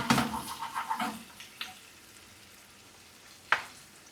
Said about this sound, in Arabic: هلا بننتظر على البصل